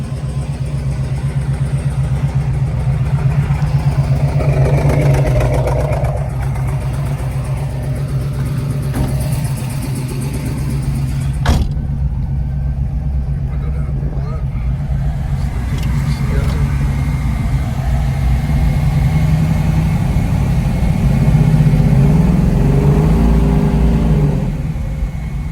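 A 1970 Plymouth Hemi Cuda 426 with shaker hood on a test drive, its V8 rumbling steadily up close with swells of acceleration, and occasional voices under the engine noise.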